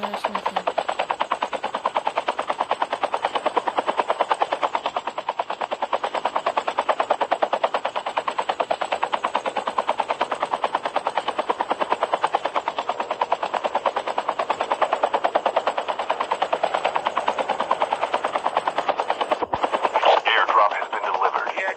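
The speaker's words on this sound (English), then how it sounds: "this helicopter keeps going down" A helicopter in a video game gives off a loud, steady, rapid rotor chop that runs almost without a break, thinning out briefly near the end.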